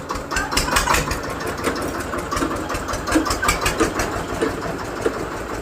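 A tractor engine idles nearby with a steady rhythmic chugging and knocking pulse that holds at an even loudness, with no voices.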